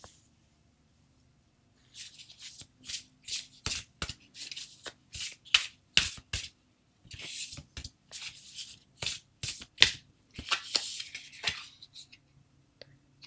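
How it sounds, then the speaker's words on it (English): Tarot cards shuffle in a quiet room in repeated short riffling bursts, close and soft, with brief pauses between each pass after about two seconds of near silence. "as I'm shuffling"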